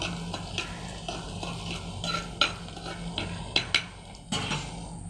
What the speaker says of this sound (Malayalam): പച്ചമണം ഒന്ന് മാറി കിട്ടുന്ന വരെ നമുക്ക് വഴറ്റി കൊടുക്കും